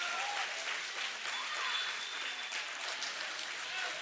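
Volleyball crowd at a high school match between Wyndmere/Lidgerwood and Lisbon cheering and applauding in a steady, dense wash of clapping and shouts that holds for the whole stretch, with voices mixed in.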